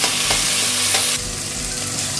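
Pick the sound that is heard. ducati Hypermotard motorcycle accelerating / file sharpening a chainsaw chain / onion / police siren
onion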